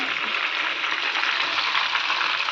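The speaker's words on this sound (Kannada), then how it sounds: "ನೋಡಿ ಫ್ರೈ ಆಗ್ತಾ ಇದೆ" Fish fries in a pan in a home kitchen, giving off a steady, even hiss of hot oil at close range. The sizzle continues without pause throughout, with no clear voices.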